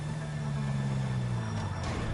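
A truck drives in a PlayStation 4 video game, a low steady engine drone with a slight rise in pitch partway through, running alone without talk.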